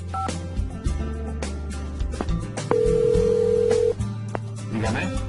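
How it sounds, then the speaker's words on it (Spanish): A steady landline telephone dial tone holds for about a second mid-clip, surrounded by brief beeps and background sounds. "El tono de marcado nos confirma que el número marcado se transmite."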